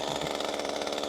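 A Stihl MS 201 C chainsaw engine runs steady and loud, a continuous buzzing drone with no pauses.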